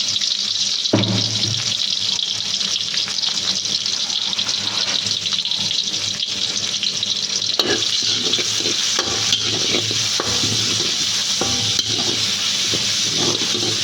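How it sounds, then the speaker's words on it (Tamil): Shallots and two dried red chillies frying in coconut oil, a dense continuous loud sizzle with occasional soft stirring scrapes and clinks, no speech. "சின்ன வெங்காயம் வரமிளகாய் 2 போட்டு நல்லா மிக்ஸ் பண்ணிப்போம்"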